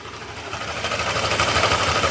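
A low, rumbling Honda motorcycle engine idles steadily, with a slight rhythmic throb and a gentle rise in loudness over the couple of seconds.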